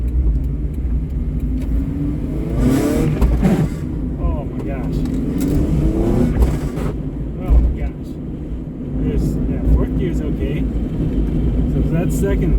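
K24-swapped Honda Insight pulling away in first gear, a loud close engine drone with rumbling road noise from inside the cabin, and a person talking intermittently over it.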